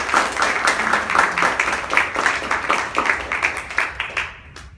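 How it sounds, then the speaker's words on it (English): An open-mic poetry audience at the Williams Center claps warmly for a poet, with a steady patter of many hands that fades away over several seconds. "So let's give her a big round of applause."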